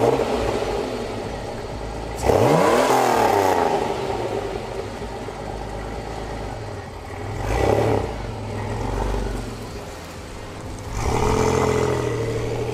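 A Pontiac Fiero 2.8 V6 with a dual throttle body intake idles loudly up close, then revs in several sweeping bursts that rise and fall back to a rough idle.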